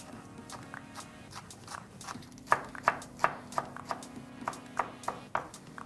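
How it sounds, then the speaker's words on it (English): Knife chopping spinach on a board, a rhythmic run of sharp close taps, about a dozen quick strikes, over a faint steady hum. "I'm going to chop some spinach."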